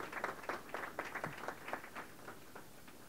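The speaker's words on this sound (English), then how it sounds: "give them a big round of applause" At a 2014 Caribbean Week student colloquium in New York, a modest crowd applauds student groups; individual claps stand out in a loose, uneven patter, fairly faint and somewhat distant.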